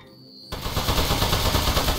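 Rapid gunfire hammers a metal enemy in the game Aperture Desk Job, a dense, loud burst of machine-gun shots starting abruptly after a quiet moment and continuing without pause.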